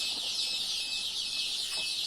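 Baby chicks kept warm in a nursery brooder chirp in a dense, high, continuous chorus of overlapping peeps that stays close and steady throughout.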